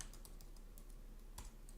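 Quick, light keystrokes on a computer keyboard while entering a database query, a steady patter of clicks with a couple of sharper taps, close by and alone.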